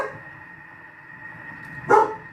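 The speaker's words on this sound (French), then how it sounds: "Si elle fait trop de bruit, je vais aller ouvrir pour qu'elle puisse aller aboyer dehors" A dog indoors in a home kitchen gives a single short bark at the end, after a quiet stretch of faint background hum.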